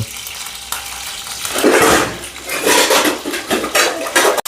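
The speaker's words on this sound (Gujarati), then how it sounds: "હવે આપણે નાખશું આમાં લીમડો વઘાર માટે." Curry leaves go into hot oil with spice paste, bursting into a loud crackling sizzle that swells and fades in waves, with some metallic pan scraping and a sharp knock at the end.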